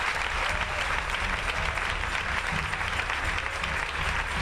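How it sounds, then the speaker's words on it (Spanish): Congregation clapping in a church service, steady and dense applause filling the space for the whole stretch without a break. "Aplauso para el Señor."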